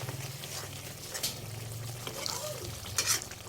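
Shrimp paste (alamang) sautéing with chilies in a pan, a steady close sizzle and frying crackle with stirring scrapes and a few brighter clinks of the utensil against the pan, no voices.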